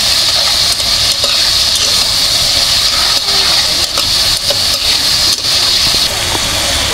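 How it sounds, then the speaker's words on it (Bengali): Loud, continuous sizzling of potatoes frying with onions in a pan, with frequent stirring clatter and scraping throughout, close up and with no talking. "পেঁয়াজের সাথে আলুটা আমি ভেজে নিব"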